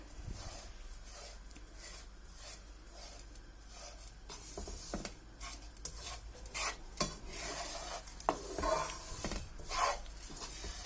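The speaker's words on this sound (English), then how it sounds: "We will roast the oats for some time." Oats dry-roasting in a pan for vegetable oats uttapam, a spoon scraping and stirring in repeated strokes with a faint sizzle and occasional clinks of utensil against the pan.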